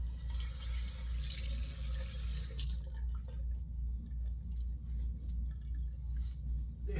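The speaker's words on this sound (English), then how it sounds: "Let me rinse one more time here." Tap water runs steadily into a sink while a face is rinsed after a shave, a close, continuous hiss that thins out about halfway through, with no talking.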